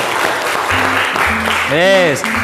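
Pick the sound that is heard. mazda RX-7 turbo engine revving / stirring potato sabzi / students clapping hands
students clapping hands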